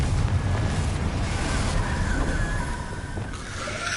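A Confringo explosive spell blast in a wizard video game: a loud, dense, sustained roar of rumbling noise with no single sharp bang, easing slightly toward the end.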